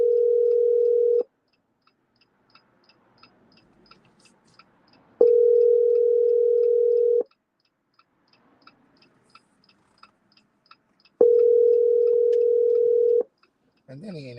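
A phone call rings out unanswered: a steady ringback tone sounds in long, evenly spaced bursts, about two seconds on and four seconds off, with quiet gaps between and a faint burst of other sound at the very end.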